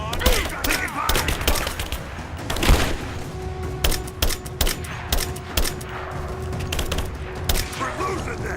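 Gunfire in the video game Rise of the Tomb Raider during a firefight at a Soviet installation: rapid bursts and single shots crack repeatedly over a dense, noisy battle soundscape, with shouting voices in the background.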